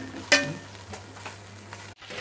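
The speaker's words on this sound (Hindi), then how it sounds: "इसको अच्छे से हम 2-3 मिनट तक फ्राई करेंगे" Ginger garlic paste sizzles softly in a pan as it is stirred for mutton dum biryani, with a brief louder scrape near the start and a low steady frying hiss, close and fairly quiet.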